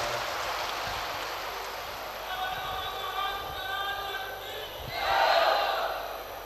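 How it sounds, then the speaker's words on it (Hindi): An audience claps to welcome the host families at a Shiv Mahapuran katha gathering in Dabra, Madhya Pradesh: a hissing wash of hand claps that thickens midway and swells loudest near the end over a faint background. "सभी यजमान परिवार के लिए एक बार जोरदार ताली बजाकर उनका स्वागत वंदन"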